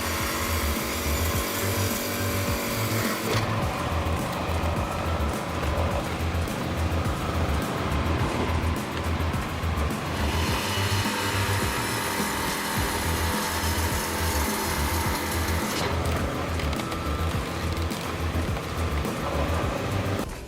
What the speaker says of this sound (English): With the ability to seamlessly cut wood with precision and speed, the woodcutter is a marvel of efficiency.